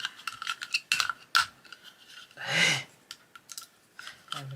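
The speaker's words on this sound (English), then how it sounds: "I've got a lead in my sharpener" A handheld pencil sharpener being cleared of a broken coloured pencil lead: quiet, close clicks and scratchy scraping, then a short rasping twist midway, no talking.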